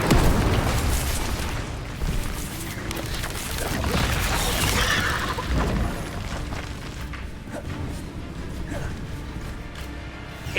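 Incendio fire spell blasts in the video game Hogwarts Legacy: dense, roaring bursts and booms that run together without a break, loud throughout with a few sharper cracks.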